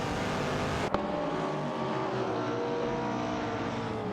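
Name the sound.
racing cars on a track in a video game race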